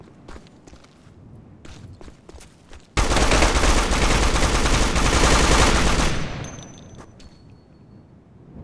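Squad gunfire in Operation Flashpoint: Dragon Rising, a sustained loud burst of automatic fire lasting a few seconds, preceded by scattered single shots and trailing off into quieter distant pops.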